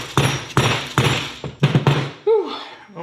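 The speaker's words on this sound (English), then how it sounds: "I'm gonna have to whack it with a hammer a couple times." Hammer whacking a stuck clamp on a Ford EcoBoost turbocharger: a series of sharp metallic thuds in quick irregular bursts, about seven blows, followed by a brief vocal exhale.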